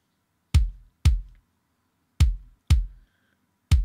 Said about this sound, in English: it's probably a sample that I took of the kick drum at the time, just so I could get a clean hit